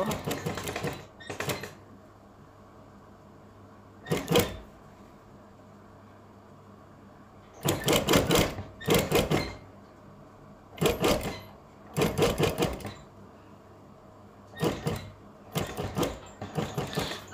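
Sewing machine stitching along a V-shaped punjabi neckline, running in repeated short bursts of rapid whirring separated by pauses, loud and close.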